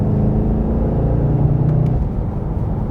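Mercedes-AMG E63 S with a V8 engine accelerating gently, heard from outside: a deep, loud, throaty rumble that rises steadily in pitch over a few seconds.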